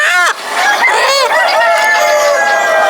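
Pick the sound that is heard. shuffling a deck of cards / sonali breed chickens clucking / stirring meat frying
sonali breed chickens clucking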